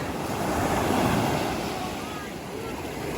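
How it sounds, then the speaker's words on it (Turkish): Big sea waves roll and break on the shore in a constant loud surging roar, with wind buffeting the microphone throughout. "Yani geldiğimizde çarşaf gibi olan denizde şimdi böyle büyük büyük dalgalar var."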